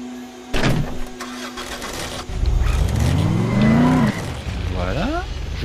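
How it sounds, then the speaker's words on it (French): Car engine in the video game Dead Island, starting with a thump, then revving and accelerating in rising sweeps, loud and close, while someone talks over it. "Oh, je suis con, je vais prendre la voiture."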